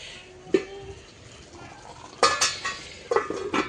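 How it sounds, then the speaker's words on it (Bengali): A lid clanks onto a pot of simmering deshi chicken masala, with a sharp metallic knock followed by a few rattling clinks of metal cookware against a quiet kitchen background. "এই তো ঢাকনা দিয়ে ঢেকে দিলাম"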